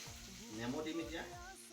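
Chicken sizzles steadily in a hot frying pan with oil as lemon goes in, a close, continuous crackle with a brief rise in intensity partway through.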